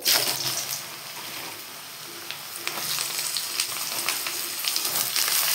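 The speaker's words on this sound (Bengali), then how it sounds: "চলো এবার আলু ভাজাটা বসিয়ে দিই" Sliced potatoes frying in hot oil, a dense, close crackling sizzle that stays loud and continuous, with faint scraping of stirring now and then and no talking.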